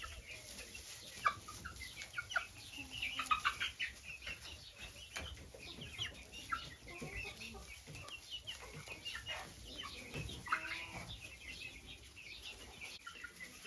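Clucking and chirping from young chickens in a coop on clean dry bedding, a steady busy flock murmur with scattered sharper calls and occasional wing flaps, moderately close and without talk.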